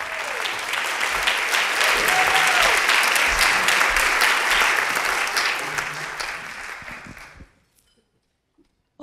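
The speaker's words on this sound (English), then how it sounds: "So let's give them an applause." An audience at a women's voting-rights event applauds the women on stage. The clapping is loud and sustained for about seven seconds, then tapers quickly into near silence.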